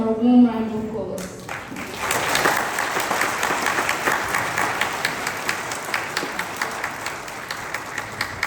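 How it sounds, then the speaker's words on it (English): A roomful of people at a community talk breaks into warm applause after a brief spoken introduction, sustained clapping that stays full and even, with a few sharper claps near the end. "Please join me in giving her a warm round of applause."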